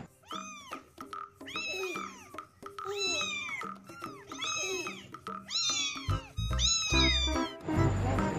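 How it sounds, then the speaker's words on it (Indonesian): Synthetic cat meows repeat in a quick series, bright and clear, ending with a burst of noisy game sound effects. "Ini ada si kucing."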